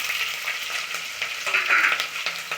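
Chopped onions and three green chillies frying with mustard seeds and curry leaves for avarekalu uppittu, a close, steady sizzle broken by brief stirring scrapes.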